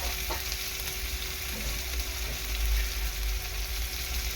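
Cinnamon and cloves fry in hot oil for a soybean curry, giving a steady, close sizzle with faint stirring throughout and no voices.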